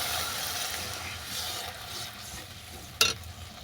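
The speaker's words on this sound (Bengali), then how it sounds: "এবার আমি এটাকে জল দিয়ে ফুটতে দেবো।" Curry broth with water added simmering in a pan for rohu fish-head and Malabar spinach curry, a steady soft bubbling and sizzling close by, with one brief sharp clink near the end.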